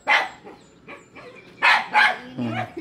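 Dogs bark in short separate bursts, several loud sharp barks near and some fainter ones, outdoors in good weather.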